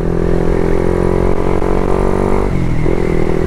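Loud, close Raider 150 FI motorcycle fitted with an RL Power Pipe exhaust, holding a steady high rev before dropping briefly and climbing again, with a continuous raspy drone and no voices.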